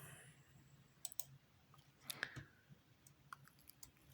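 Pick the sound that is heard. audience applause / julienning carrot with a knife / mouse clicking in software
mouse clicking in software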